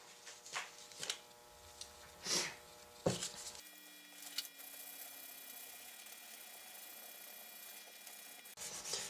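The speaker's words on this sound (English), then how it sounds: "So now let's go back over this other side with the sandpaper. Again, ultra fine. I'm going to probably use the 800 here." Ultra-fine 800-grit sandpaper rubbed by hand over a surface, with a few soft, quiet scratching strokes at first, then a faint steady rasp.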